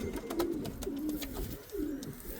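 A racing pigeon coos at its loft after arriving from a race, with several soft, low coos close by amid wing flutters and light background noise.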